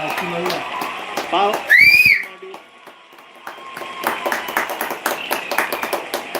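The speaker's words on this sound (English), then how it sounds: "People are applauding" Applause breaks out among people watching the Chandrayaan-3 Vikram lander landing broadcast, with a burst of clapping and a whistle, then a lull and renewed rapid clapping as voices talk over it.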